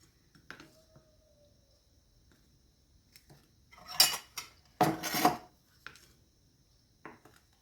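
Carrot dates cake batter being gently folded in a bowl, quiet soft scrapes and a few louder clustered swishes of the utensil against the bowl, with long near-silent gaps.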